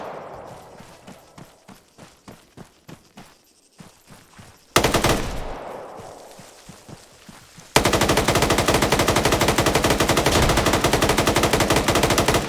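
Gunfire in a PvP shooter match, with spaced single shots echoing at first, then a dense burst and finally a long, loud, rapid machine-gun stream.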